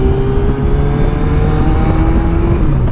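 A car overtakes a learner on a Yamaha Fazer 600 café-style motorcycle on a corner, heard as a steady, loud engine drone with some rising pitch over continuous wind and road roar, with no talk.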